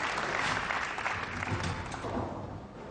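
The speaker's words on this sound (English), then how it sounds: "Greeted with a big cheer and cries of moose," Spectators at a bowling event, the Weber Cup 2011, burst into a broad cheer and applause that stays loud and dense for the whole few seconds before fading slightly at the end.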